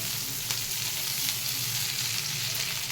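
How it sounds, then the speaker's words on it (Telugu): Drumstick leaves frying in a kadai after being added to the same pan, giving a continuous dense sizzle and crackle, close and steady with a faint tap or two of a utensil, no talking. "ఇప్పుడు ఇదే కళాయిలో మనం మునగాకు వేసుకుందామండి."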